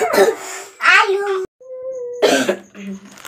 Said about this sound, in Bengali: ভিডিও শুরু না করতে করতে একবারে কাশি